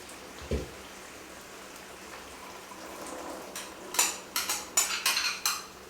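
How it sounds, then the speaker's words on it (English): Chickpeas tumble into a simmering pot of green coconut curry with a quick run of clattering, splashy hits, following a soft bump and a low bubbling background. "Now we're going to add some chickpea."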